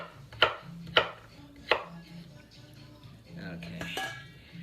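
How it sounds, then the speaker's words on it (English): Knife chopping a small pumpkin on a cutting board: three crisp, close thuds spaced about half a second apart, then softer scraping and a clink, with faint background talk. "The tedious chore of chopping the pumpkin."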